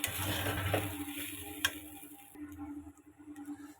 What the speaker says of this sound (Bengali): লবণটা দিয়ে আমি খুব ভালোভাবে নেড়ে নিচ্ছি।